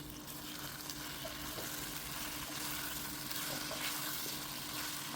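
Goat testicles frying in oil with ginger garlic paste and onion give a steady, close sizzle with faint crackle throughout, and a low hum sits underneath.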